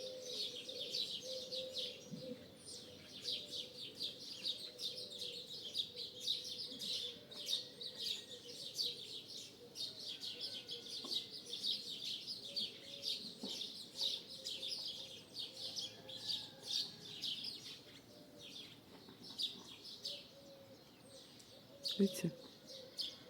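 Starlings chatter and whistle in a dense, continuous, busy chorus with a turtle dove cooing underneath, outdoors at moderate distance, while a voice briefly speaks over the birdsong.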